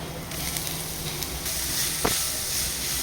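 Grated beetroot dropped into a hot pan with chillies sets off a loud, steady hissing sizzle, with a brief clack of a utensil partway through.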